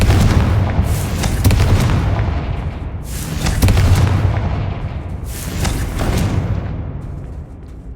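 Booming fiery blasts from the Confringo spell in Hogwarts Legacy, three loud explosions each trailing off into a rumbling roar, heavy and continuous throughout.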